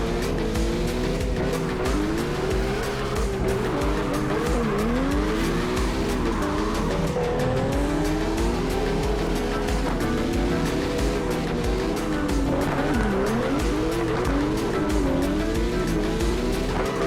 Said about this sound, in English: But they sound like a non-turbo RB. They sound like an RB20DE kind of.